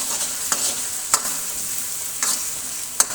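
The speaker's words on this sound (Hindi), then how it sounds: "तो जब तक हमारे प्याज फ्राई होते हैं" Two medium-sized chopped onions fry in a karahi-style pan for achari chicken, giving a steady close hiss with a few sharp clicks as the spoon scrapes the pan.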